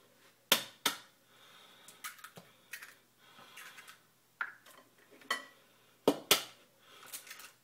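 Two eggs cracked into a bowl for crepe batter: a series of sharp taps and clicks against the bowl's rim, with light shell rattles in between, close and quiet, no talking.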